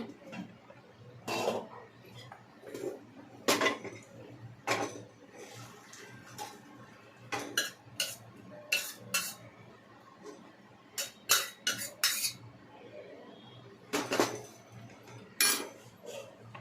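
Mutton curry is moved into another pot with faint, scattered clinks and scrapes of a spoon against metal cookware, coming in irregular bursts over a quiet kitchen background.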